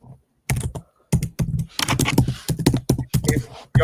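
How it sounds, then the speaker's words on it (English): A computer keyboard is typed on hard during an online football gaming session, loud close clattering bursts of keystrokes in uneven clusters with short silent gaps and no talk. "Who is booting off their keyboard like that?"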